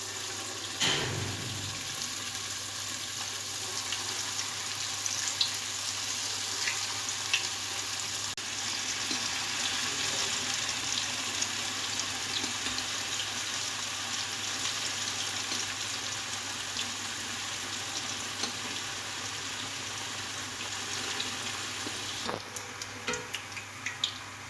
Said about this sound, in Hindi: इनको जो है हमने थोड़ा ज़्यादा फ्राई करना है, जैसे हम पकोड़े फ्राई करते हैं